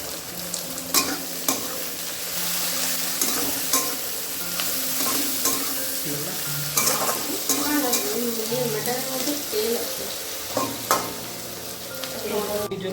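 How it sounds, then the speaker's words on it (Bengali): Onions with a little salt frying in a pan, a continuous sizzle punctuated by repeated scraping and stirring of a utensil against the metal, close and moderate in level with no voices. "পেঁয়াজটা ভাজা হবে।"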